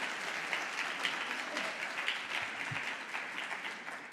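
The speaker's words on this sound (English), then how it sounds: "a big round of applause for ma'am" An audience at a Dubai conference hall applauds a chief guest coming on stage, a steady bed of moderate, even clapping heard from a distance for a few seconds.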